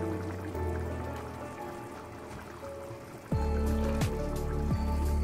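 Spiced red beans go into a pot of simmering chili con carne, heard as a soft trickling and wet shifting that grows fuller and slightly louder partway through, close and with no voices.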